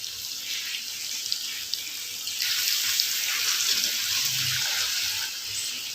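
Water poured into a pan of Chettinad-style egg masala gravy, a steady close splashing and gushing stream that swells midway and then eases, with no talking.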